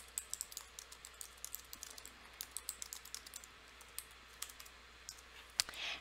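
Fingers type quickly on a computer keyboard, close and quiet, producing an irregular patter of soft key clicks with a louder tap near the end.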